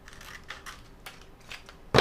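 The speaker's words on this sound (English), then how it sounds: "I can just trim it out with my scissors right here" Scissors snip through heat transfer vinyl in a few light, sparse cuts and crinkles, ending in a sudden louder rustle or thump, close up with no talking.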